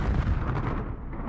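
Cannon fire from a mobile suit in a Gundam story: a single heavy, booming blast that rumbles and fades over about a second.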